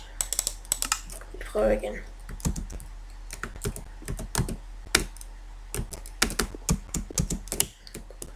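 Rapid, close computer keyboard typing with uneven bursts of sharp key clicks throughout, while a person speaks briefly in Danish.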